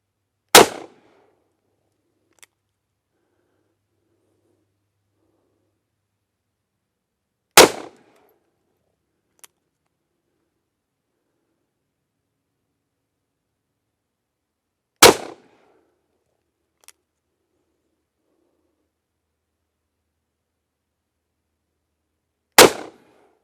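Cimarron Badboy .44 Magnum rifle firing 240-grain loads over a chronograph at an outdoor range: four sharp, loud single shots spaced about seven seconds apart, each with a short crack and quick decay, with faint clinks in between.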